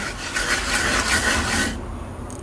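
A wet surface is rubbed by hand during house renovation, giving a steady close scraping rasp for about two seconds before it stops abruptly, with no talking.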